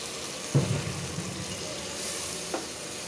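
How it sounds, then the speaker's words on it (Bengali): Spice paste sautés in a pan with a quiet, even sizzle, broken by two sharp utensil knocks, one near the start and one near the end. "এটা মশলাটা কষানো হচ্ছে"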